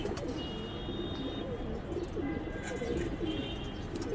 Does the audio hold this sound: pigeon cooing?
yes